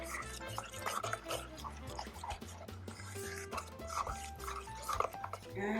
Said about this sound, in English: We're gonna do one more stir.